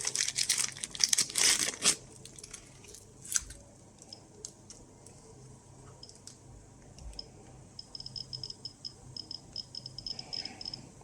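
A Geiger counter with an SBT tube clicks as an alpha source is brought close. A dense burst of crackling clicks comes first, then sparser, irregular ticks continue faintly over a quiet background.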